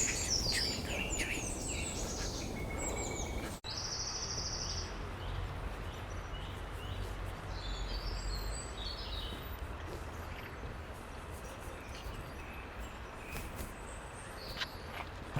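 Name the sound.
song thrush singing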